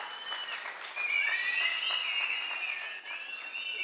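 Audience applause for school students' performances at a Presidency Public School annual day evening session, a dense steady clapping that swells after the first second and holds, with shrill whistles cutting through the crowd.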